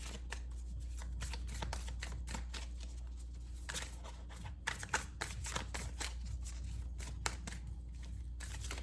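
Tarot cards being shuffled by hand produce a rapid, quiet run of papery riffles and soft slaps, with a few sharper snaps midway, all faint and close against a low background hum.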